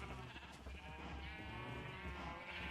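Sheep bleat in the Minecraft video game, sounding as a few soft, wavering cries in a quiet game scene.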